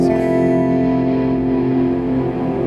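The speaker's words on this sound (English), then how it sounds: "as the note fades out, the reverb swells back in" A sustained guitar note rings out through a Seymour Duncan Silver Lake Reverb pedal and slowly decays, with a wash of reverb lingering and blooming beneath it as it fades.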